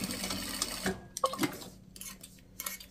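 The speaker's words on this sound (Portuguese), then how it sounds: "faço o retrocesso desse lado, deste lado" A sewing machine backstitches a pocket on a fabric phone holder, giving a close, loud mechanical whir that stops after about a second and is followed by light clicks and handling sounds.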